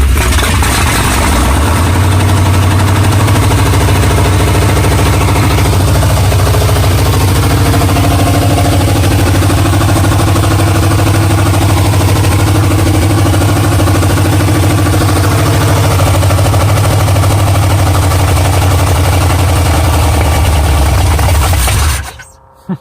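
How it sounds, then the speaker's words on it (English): A V8 swapped into a Chevrolet S10 fires up and settles into a loud, steady low rumble that runs close and continuous before cutting off abruptly at the end. "S10 is fucking firing back up"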